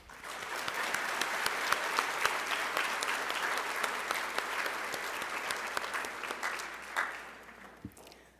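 Audience applause for award winners at a pharmacy school graduation ceremony, a steady wash of many hands clapping for several seconds, heard at moderate distance, then tapering off with a few final claps.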